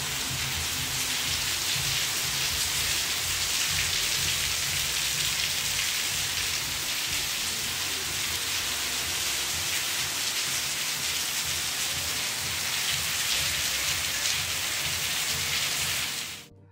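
Steady rain falls continuously near a lake, a dense even hiss with a faint low rumble underneath, close and loud throughout with no voices until it cuts off at the end.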